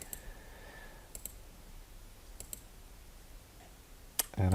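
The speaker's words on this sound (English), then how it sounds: "I'll start here with a single click" A few sharp, quiet single mouse clicks spaced out while digitizing a closed shape in embroidery software, alone in a near-silent room, with a louder bump at the very end.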